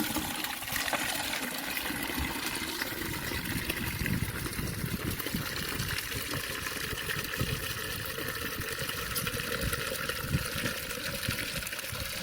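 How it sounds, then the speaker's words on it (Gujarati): Water pours steadily into a tank on a farm, a continuous rushing, gushing sound that holds at an even level throughout, fairly close, with no voices. "પાણી ભરીને"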